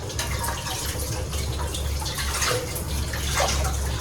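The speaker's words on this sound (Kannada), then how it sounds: "ಫಸ್ಟು ಮ್ಯಾಂಗೋಸ್ನ ತೊಳ್ಕೊತಾ ಇದ್ದೀನಿ." Mangoes rinsed under a running kitchen tap, a steady close rush of water with light splashing that stays even throughout.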